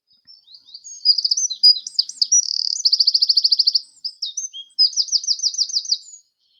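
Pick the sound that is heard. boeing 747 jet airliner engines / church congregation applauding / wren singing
wren singing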